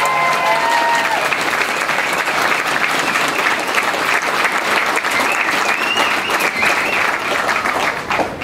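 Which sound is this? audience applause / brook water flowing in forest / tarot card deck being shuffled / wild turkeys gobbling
audience applause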